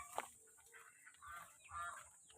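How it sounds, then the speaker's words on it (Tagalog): Chickens clucking at a school garden with a bahay kubo hut, soft short clucks and calls in a few bursts, somewhat distant and faint against a quiet outdoor background. "Mga manok."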